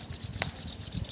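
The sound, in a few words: rubbing palms of hands together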